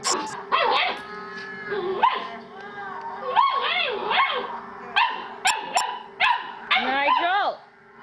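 A dog barks repeatedly and close by, sharp yelping barks coming in quick uneven bursts, with a person speaking to it in between.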